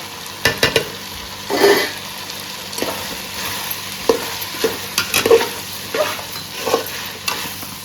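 Onions fry in a pan with coriander, chilli and turmeric powders for a chicken curry, stirred in irregular scraping strokes over a low, steady sizzle, with no talking.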